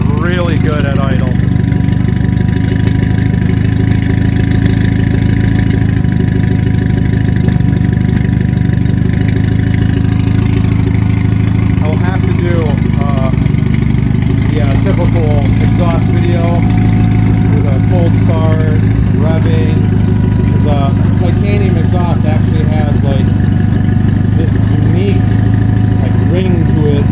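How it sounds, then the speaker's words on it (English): A 2011 Mitsubishi Lancer Evo X track build idles, its engine giving a loud, steady low rumble throughout with a voice speaking over it. "Does sound really good at idle."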